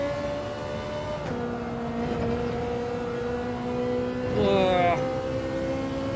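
A race car engine in Gran Turismo 7 drones at a steady high pitch, then bounces off the rev limiter near the end in a brief, stuttering surge, with a voice faintly present underneath.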